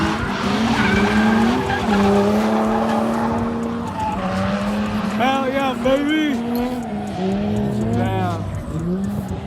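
Several cars drifting in tandem around a speedway track at a drift event, tires squealing in long wavering screeches over steady engine roar, with people talking nearby.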